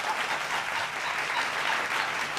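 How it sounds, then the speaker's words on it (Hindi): Steady, dense audience applause from a crowd at a Hindi political poetry recitation, loud and continuous throughout with no pauses. "तालियां जोर से बजा दो"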